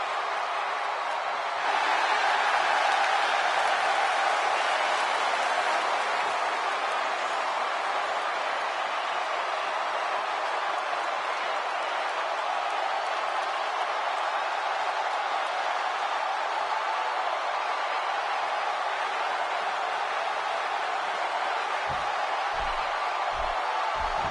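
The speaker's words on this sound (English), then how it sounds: "listening to the reaction this guy gets from a crowd never gets old" Arena crowd in the WWE 2K16 wrestling video game roaring for Dean Ambrose at a WrestleMania 32 simulation: a dense, steady wash of cheering that holds loud and unbroken throughout, with a few low thuds near the end.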